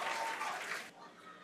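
A crowd applauds and cheers during a SpaceX Starship landing test, a faint, distant wash of clapping that cuts off abruptly about a second in.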